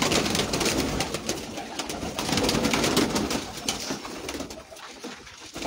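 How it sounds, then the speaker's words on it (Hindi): Slate-grey pigeons coo steadily throughout from a loft, a dense flock's soft murmuring calls layered together, fairly close, with no speech over them. "जितने कबूतर तुम देख रहे हो सारे ही सिलेटी ने"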